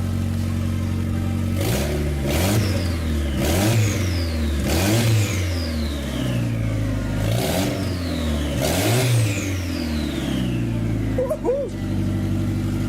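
A JDM 4G63 engine running without a radiator, steady with repeated revs that rise and fall in rhythm, loud and close, ending with a brief clatter.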